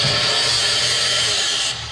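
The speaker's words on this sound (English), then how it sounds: "Why are you grinding all the way back down there?" A power grinder runs steadily against the steel chassis of a Toyota Hilux LN106 competition truck, a loud continuous close-up whine that eases off just before the end.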